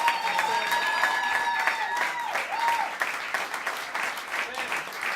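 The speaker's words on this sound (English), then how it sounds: "Maybe if we give him a big round of applause, it might happen." A crowd applauds at a New York jazz festival to welcome a bassist to the stage. The clapping is dense and continuous, with a sustained whistle-like tone over it early on.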